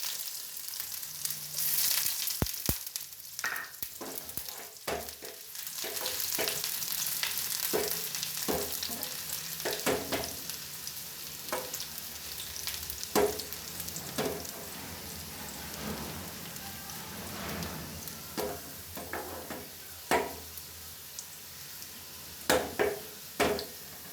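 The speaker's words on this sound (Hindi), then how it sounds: "अब हम लगाते हैं प्याज का तड़का।" Steady crackling sizzle of onions frying in hot oil for a tempering, with occasional sharper pops and a few clinks throughout.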